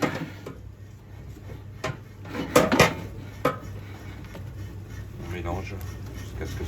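Flour being stirred into melted butter in a pan to make a roux, heard as scraping and clinking utensil strokes against the pan, with a cluster of sharper knocks in the middle, over a low steady background hum.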